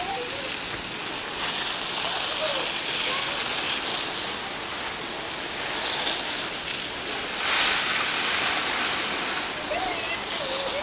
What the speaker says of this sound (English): time to get on with the watering. Only needs a little bit of a sprinkle really.